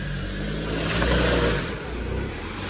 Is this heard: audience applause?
no